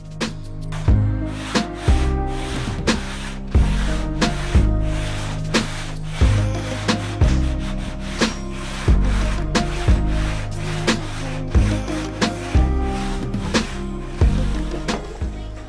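Hand sanding of filler on a Nissan 240SX S13 body panel, repeated rhythmic back-and-forth rasping strokes, close and fairly loud, with no talk over it.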